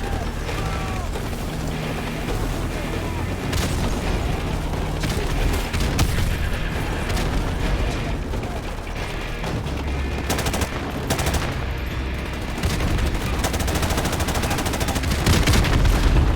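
Battle in Modern Warfare Remastered, with tanks against infantry: heavy automatic gunfire, repeated booming explosions and rattling bursts fill the scene almost continuously, loud and close, with occasional voices under the chaos.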